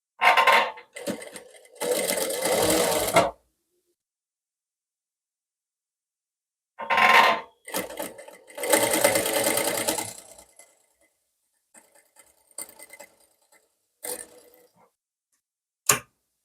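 Sewing machine stitching a dart on a blouse front, running in several separate bursts of rapid mechanical stitching with silent pauses between, followed by lighter clicks and handling sounds of fabric and parts.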